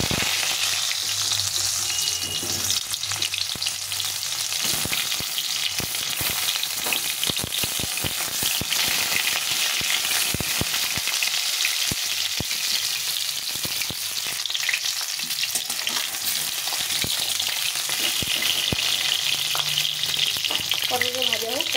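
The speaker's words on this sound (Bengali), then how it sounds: "এখন আমি এই পটলগুলোকে লবণ হলুদ দেবো না, শুধু একটু ছুলে ফাটিয়ে নিয়েছি। এইভাবে ভেজে নেব।" Split, peeled pointed gourds frying in very hot oil, with a loud, constant sizzle and crackle that carries on without stopping, broken now and then by sharper pops and stirring.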